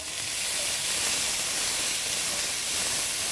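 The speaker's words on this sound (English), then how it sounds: "So I'll stir the peas and carrots around just so that they can start to cook down and the oil can coat them a little bit" Peas and carrots sizzle and hiss in hot oil in a pan, a steady, bright frying noise that fills the clip without pause or talk.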